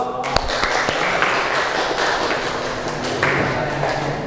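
A classroom audience claps together in steady, even applause that holds at an even level throughout, with a sharp tap near the start and a faint voice mixed in.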